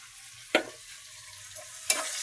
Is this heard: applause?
no